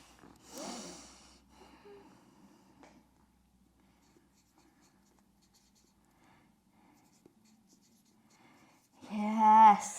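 A pen scratches faintly on paper as an attraction spell is written during a full moon ritual, set between breaths, with a voice speaking at the start and end.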